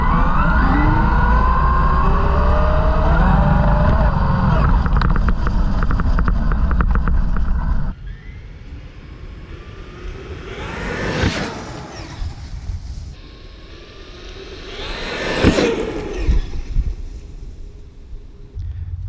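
A Traxxas X-Maxx RC car runs toward a row of boards, a loud steady motor drone for several seconds, then quieter rolling with two sharp whooshing rushes as it passes close by.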